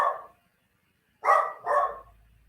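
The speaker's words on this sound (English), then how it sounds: "I have a dog in the background in case you haven't noticed." A dog barking in the background: one short bark, a pause, then two quick barks in succession, moderately loud with no voices over them.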